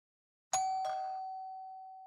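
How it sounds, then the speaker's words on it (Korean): A two-tone doorbell chimes once in a quiet home on a morning as someone prepares to go out, a bright strike followed by a second tone that rings on and slowly fades. "초인종이 울립니다."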